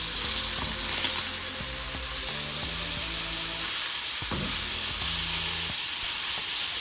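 New Zealand beef steak sizzles loudly on a grill in a continuous close hiss, with tonal kitchen or background sounds running beneath and no talking.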